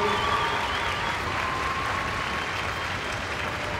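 A crowd at a CSI3* show jumping competition in Liège claps continuously, a dense, even wash of applause sustained at steady volume for several seconds without pause.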